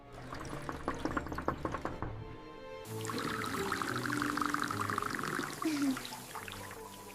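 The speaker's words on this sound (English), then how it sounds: "I can't hear anything with all this water running." Water pours steadily from a bathroom tap, a continuous splashing rush that fills most of the clip after a brief quieter start, with voices speaking over it early on.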